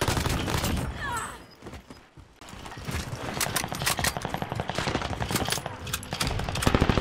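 Rapid automatic gunfire in a video game rattles in dense, loud bursts, pausing briefly early on before resuming at full intensity.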